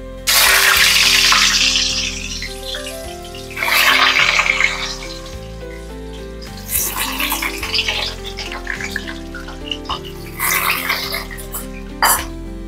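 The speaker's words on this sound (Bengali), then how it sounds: "আলুটা ভাজা হচ্ছে" Potatoes frying in oil in a pan send up intermittent bursts of sizzling between quieter stretches, with steady background music underneath.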